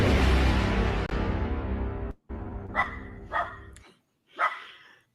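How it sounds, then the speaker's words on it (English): A dog barks in the background, three or four separate sharp barks after a loud, broad rumbling stretch, each bark distinct and moderately loud, with no talking over them. "you hear my dog barking in the background"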